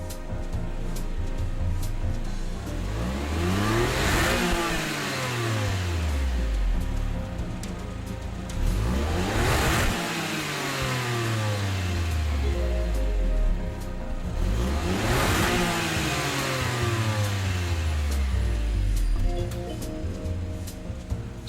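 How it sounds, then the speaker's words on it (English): Three revving bursts from a 2022 Honda N1 RS race car in Gran Turismo 7, each climbing sharply in pitch then falling away, repeating about every five seconds, loud and steady with no talk. "that wondrous little noise comes from the Honda N1 RS, also from 2022"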